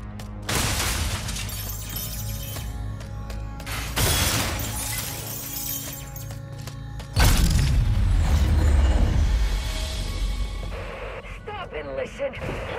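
Glass shattering in the video game Ratchet & Clank: Rift Apart, loud crashing bursts with booming impacts and game sound effects, the breakage striking several times across the stretch.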